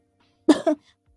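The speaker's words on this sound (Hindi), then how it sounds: "खांसी क्यों आ रही है?" A single short, close cough in two quick bursts, alone in quiet.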